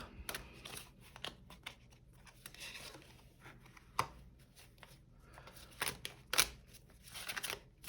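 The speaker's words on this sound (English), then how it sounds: "I'll pull a few cards for you, group 1" Tarot cards being shuffled and pulled from the deck, soft close riffling and sliding with scattered sharp flicks and taps, quiet and intermittent with no talking.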